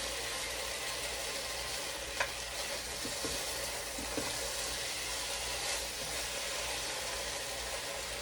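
Elk meat browning in a hot pan for a stew with root vegetables, a steady loud sizzle running throughout with a few faint scrapes and knocks of stirring, no voices.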